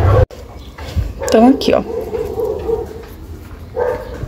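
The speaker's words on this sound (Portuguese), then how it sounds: "Vocês desculpem aí que os cachorros resolveram latir bem na hora" Dogs bark and yip at a farm with horses, with a few sharp barks mixed with whimpering sounds, heard at moderate distance under a person talking.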